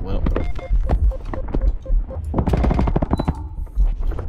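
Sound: gunfire from a gun in a video game

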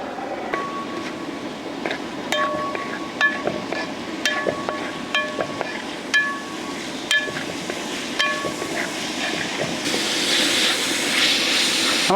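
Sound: onions and green chillies sizzling in coconut oil

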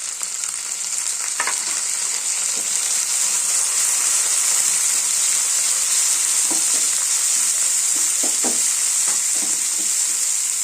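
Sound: cut tomato added and stirred in frying pan

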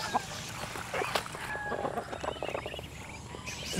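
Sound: chickens and ducks on a farm

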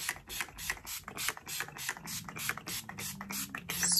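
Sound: Urban Decay All Nighter setting spray being sprayed

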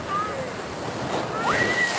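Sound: sea waves breaking on the beach at Digha

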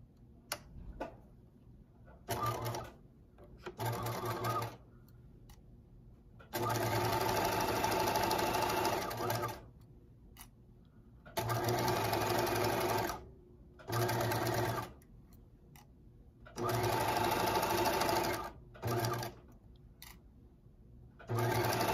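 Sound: sewing machine stitching along a fleece pullover edge

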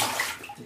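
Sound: toddler splashing water in bath

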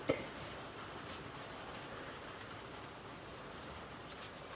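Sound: rain falling outside

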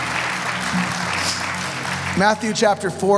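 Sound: congregation applause for the translator

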